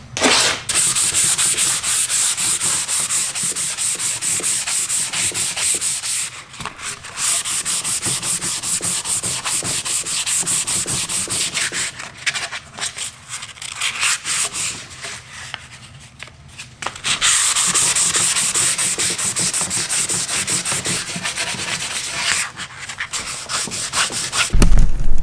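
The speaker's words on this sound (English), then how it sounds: "as much as I'm sure you guys love watching me sand" Bondo fillets on a high power rocket, a Wildman 5-inch Punisher, being sanded by hand in long, steady rasping strokes, close and continuous with brief pauses between passes.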